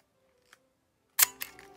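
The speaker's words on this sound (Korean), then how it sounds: "탁탁탁탁탁 셔터 한번 누르고 또 감아요." A Canon Demi EE28 half-frame film camera gives a faint small click, then a sharp shutter release followed by the ratcheting snap of the film advance, close and isolated.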